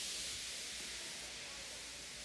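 A steam locomotive in a children's animated railway series lets off steam, a continuous broad hiss that holds steady for a couple of seconds.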